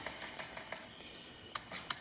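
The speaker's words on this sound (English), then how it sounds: "It's a finger drum roll." Fingers tap out a quick, soft, uneven patter on a hard surface in a finger drum roll, with a few sharper taps near the end.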